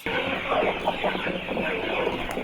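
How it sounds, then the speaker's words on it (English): Kienyeji chickens on a small poultry farm, a steady chorus of clucking from several birds nearby, continuous and moderately loud without any talk. "Currently, I have chicken that are ready for sale."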